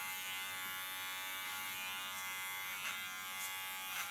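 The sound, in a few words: electric hair clipper cutting hair over a comb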